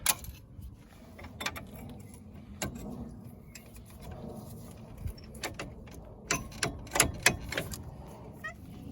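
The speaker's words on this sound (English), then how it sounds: "with a screwdriver or a pick tool, you just remove the retaining clip" A screwdriver or pick tool pries the retaining clip off a front brake caliper on a Ford Focus Mk3, giving close, sharp metallic clicks and scrapes that cluster toward the end.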